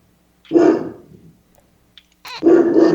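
Two loud, close dog barks, a single bark followed by a second after a short pause, with a growly edge and no talking.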